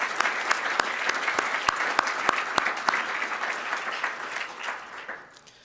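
Audience applause after a call to thank corporate and academic partners at a biotech symposium, dense steady clapping with sharp individual claps standing out, fading toward the end.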